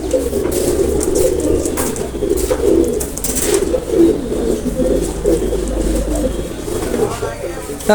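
Pigeons for sale, including a pair of yellow-eyed Nepali birds, coo steadily in a low rolling drone, close and loud throughout, with a voice talking over them.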